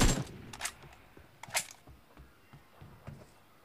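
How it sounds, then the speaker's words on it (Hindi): Gunfire in the BGMI mobile battle royale game during a one-on-one match, several sharp short bursts of shots spaced across the moment, fairly faint, with no talking over them. "अरे इतनी गोलियां मारी थी भाई"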